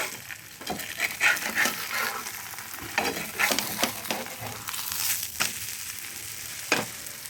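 An egg omelette with onion fries in a pan, sizzling steadily up close. Repeated scrapes and taps come from a spatula turning it, spread unevenly through the clip, and nobody talks.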